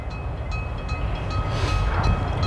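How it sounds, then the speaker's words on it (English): A CSX northbound coal train draws near in Marion, Ohio, its steady low rumble building gradually in loudness with faint high squeals above, no voices present. "CSX northbound's coming."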